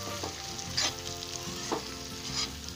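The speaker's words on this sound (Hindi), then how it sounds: "अब इनको अच्छे से मसाले के साथ सेक लीजिए" Stuffed okra (bharwa bhindi) sizzling as it roasts with spices in a pan, a continuous fry with a few scraping stirs of a spatula, close and alone.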